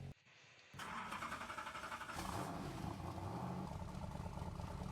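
A Celine S7 Twin Turbo with a 7-liter V8 making 750 horsepower, in the Driving Empire game, cranks after a short quiet gap, then settles into a loud, steady idle and revving rumble that continues on its own.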